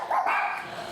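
A single dog gives one short, loud bark close by, inside a noisy home.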